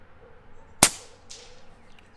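A single sharp, close crack from an Air Arms S510 XS TDR regulated PCP airgun, followed a moment later by a fainter thud of pellet impact, set against quiet outdoor background noise.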